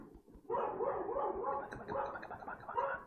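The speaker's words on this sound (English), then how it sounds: "Stupid dog barking." A dog barks and yips repeatedly in quick bursts in a video game, fairly close, with a whimpering edge to some calls.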